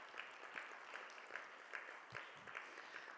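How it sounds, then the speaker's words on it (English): Audience applause at an evening church gathering, a steady wash of clapping held at a moderate, somewhat distant level, with faint rhythmic peaks and no voices over it. "Will you give me one more round of applause for Shelley and Jessica just coming out tonight and leading us through that?"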